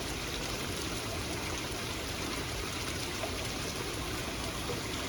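Fast-running water gushes out from inside a tree beside the mountain trail to Hemkunt Sahib in Uttarakhand, a steady, dense rushing flow close by that continues unbroken with no talk.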